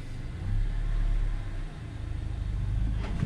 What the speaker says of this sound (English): hopefully we can gently back down off the ramps